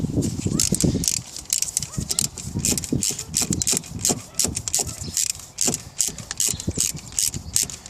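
A ratchet wrench ticks in quick bursts of rapid clicks while undoing a 10 mm bolt on the alternator of an Audi A6 C6 2.0 TDI. The clicks are close and moderately loud, with someone talking over parts of it.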